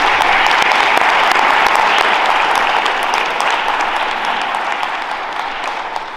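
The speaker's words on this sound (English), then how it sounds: "Let's just give them all a round of applause." Dense audience applause fills the room at a Troy community forum, steady and loud throughout before tapering slightly toward the end, with no voices breaking through.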